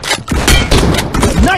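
Gunfire in the mobile battle royale game BGMI (Battlegrounds Mobile India), dense bursts of loud shots and thuds running back to back through a busy, close firefight, with voices talking over the action.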